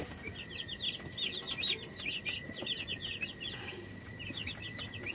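Young Cobb 500 broiler chicks peep in rapid, high, repeated chirps from close by, in bursts during the first few seconds over a constant insect-like background drone before thinning out.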